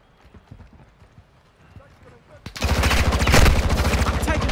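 Rapid gunfire in Call of Duty Modern Warfare 2 bursts in at mid-clip, loud and dense with fast repeating shots, after a quieter stretch of light clattering footsteps.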